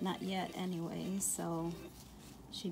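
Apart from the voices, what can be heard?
No distinct noise like a dog, phone or traffic.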